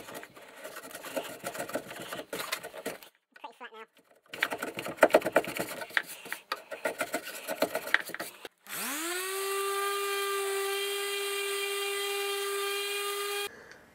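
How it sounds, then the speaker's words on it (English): Scraping and sanding of cured surface resin on a wooden table frame: several seconds of rough, gritty strokes with short pauses, then a power tool motor whines up and runs steadily and loudly before cutting off. "I'm going to now scrape off the majority of the surface resin and then sand"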